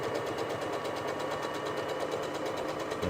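A Brother SF100 sewing machine running test stitches after repair, a steady rapid mechanical chatter of the needle and motor, continuous and close with no voices.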